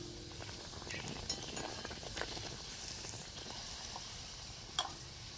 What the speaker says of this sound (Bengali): এই মালপোয়াটাকে আমি হালকা লাল লাল করে ভেজে নামিয়ে নেব